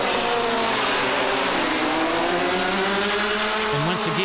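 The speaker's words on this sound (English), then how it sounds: "powered by Rotax 125cc engines" Racing karts with Rotax 125cc engines howl past in a close pack at a kart race, a dense, loud, continuous high-pitched engine whine with shifting revs filling the whole stretch.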